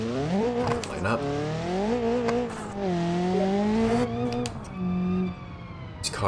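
A race car engine in the BeamNG.drive video game, at Hirochi Raceway, holds a loud, steady drone that climbs and shifts through gears. Someone talks over it, and brief squeals and clicks break in.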